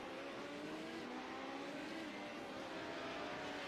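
A 2.6 litre V8 race car engine in a racing video game drags out along a long straight, a steady droning roar with rising pitch, continuous and fairly faint.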